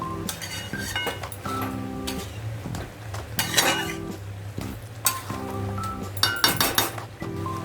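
Curd being stirred into chicken curry in a pan over a medium flame, steady repeated clinking and scraping of a spoon against the pan with light sizzling underneath, close and continuous with rhythmic strokes.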